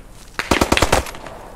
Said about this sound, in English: there's an MG42 right next to me